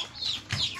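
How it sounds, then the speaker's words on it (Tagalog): Ducks call near a farmyard where ducklings are kept, giving two short nasal quacks close by and clearly, with no talking over them. "Ay nako, yung mga pato natin."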